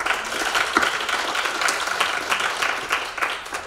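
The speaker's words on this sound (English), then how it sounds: "So a round of applause for this great panel." Audience applause for a panel at a blockchain leadership summit in Basel, a steady patter of many hands clapping at a moderate level throughout.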